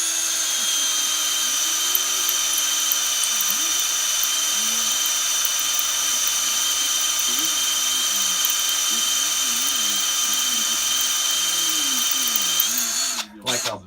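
A freshly sharpened drill bit bores into a Turbo LSX 5.3 engine crank for a pin, making a close, steady high-pitched whine that runs almost without a break before cutting out at the end. Faint voices sit underneath.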